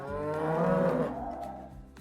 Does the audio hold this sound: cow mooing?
yes